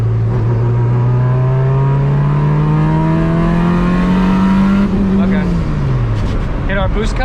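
A turbocharged D16 Honda EF hatchback pulls hard through the gears, its loud engine drone climbing steadily in pitch before dropping at a shift, with turbo whistle and occupants talking over it.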